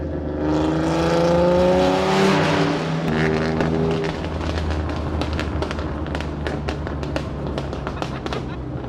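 A TVR sports car racing through a hilly town, its engine revving hard as the exhaust pops and crackles in a rapid string of sharp bangs, with people talking over it.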